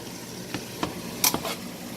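Zoodles and tricolor pepper stirred with tongs in a frying pan: a few soft scraping clacks and short sizzling bursts over a faint background, quiet and close.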